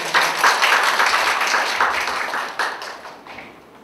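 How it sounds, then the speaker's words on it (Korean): An audience applauds at a university research centre opening ceremony, a dense steady round of clapping that fades out toward the end. "박수로 청해 주시기"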